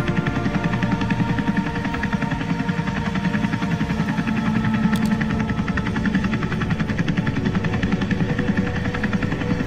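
A helicopter landing in a Jurassic World toy movie, its rotor thumping in a loud, steady drone close by, with no talk over it.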